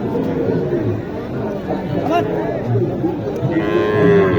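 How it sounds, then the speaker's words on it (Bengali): Crossbred cattle at Mataji livestock market in Naogaon moo loudly and close by, with several drawn-out lowing calls heard over steady crowd chatter and nearby talking. "ক্রস জাতের গরু"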